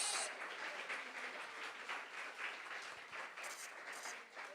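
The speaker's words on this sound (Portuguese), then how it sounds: "Aplaudam ao Senhor." Church congregation applauding after a prayer, a steady, fairly faint wash of many hands clapping together in a large room, sustained throughout.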